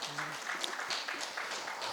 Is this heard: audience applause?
yes